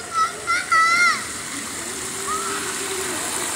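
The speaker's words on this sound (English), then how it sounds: "great fun for these kids, playing water games in these fountains." Kids playing water games in splashing fountains at a city centre in Mississauga, Canada, with steady rushing water, brief bright shouts early on and a tonal squeal midway.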